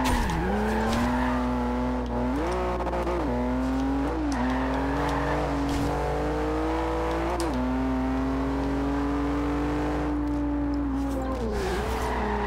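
A 2015 Volvo S60 in the racing game Forza Horizon 2 accelerates hard, its engine droning loud and close, rising in pitch through several gear shifts while tires squeal.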